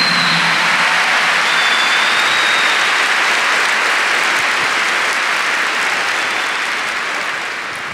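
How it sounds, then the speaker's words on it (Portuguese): Loud, dense applause from a large congregation at a religious talk, sustained throughout and tapering slightly toward the end. "Give the Lord a big clap for that too."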